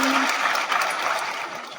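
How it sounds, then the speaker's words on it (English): An audience at a comic con interview session claps in a broad, steady burst of applause that fades gently over under two seconds. "All right, a round of applause"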